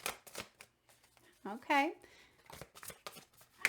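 A deck of tarot cards is shuffled in several brisk riffling bursts close by, with a voice briefly speaking between them.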